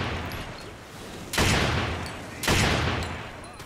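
Gunfire in Lost Planet 2, a continuous rattle of background shooting punctuated by two loud, sharp blasts about a second apart, each trailing off in a noisy decay.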